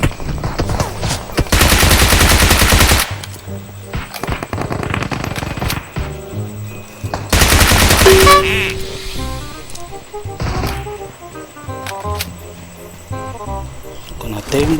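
Video game gunfire in a battle-royale squad match, two loud sustained bursts of rapid automatic fire with scattered single shots and game effects between them.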